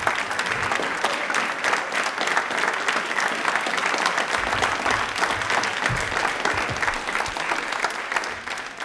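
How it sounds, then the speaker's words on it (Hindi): An audience at a televised quiz program for Birsa Munda's birth anniversary and Tribal Pride Day applauds loudly. The clapping is dense and steady, near and continuous for about nine seconds, with no voices. "एक बार तालियां नारायण जी के लिए जोरदार वाली होनी चाहिए सब प्लीज।"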